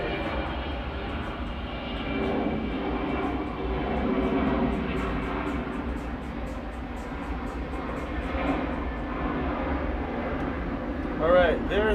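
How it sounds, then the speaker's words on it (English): Jet engines of an Airbus A330-300 airliner drone at an airport, a steady distant roar swelling and fading slightly, with a brief whistle near the end and some tonal hum underneath. "Alright, there's the A330-300."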